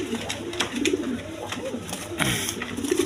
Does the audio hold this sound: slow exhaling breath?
no